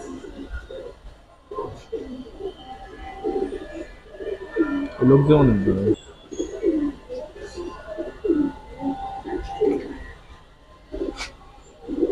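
Giribaz pigeons cooing in soft repeated burrs, with a louder cluster around the middle, mixed under close conversation between people.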